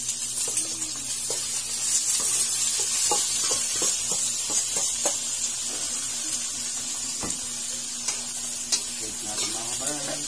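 Octopus fries in a hot pan, a loud, continuous hissing sizzle broken by scraping and clinking stirring strokes, with a low steady hum underneath.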